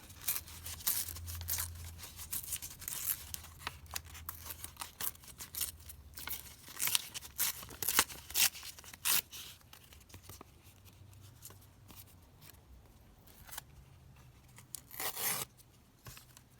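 Paper craft clusters torn apart by hand in a series of close, uneven ripping bursts with crinkly rustles between them, loud and near with no talking.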